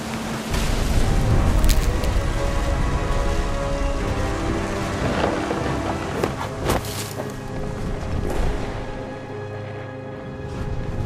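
Heavy rain pours steadily with deep thunder rumbling close by during a stormy scene in the video game What Remains of Edith Finch. It stays loud and continuous, with brief sharper cracks and no voices.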